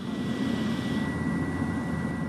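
Airplane engine heard from inside a BFAR maritime patrol aircraft over Panatag Shoal; a loud, steady cabin drone with a constant whine persists throughout.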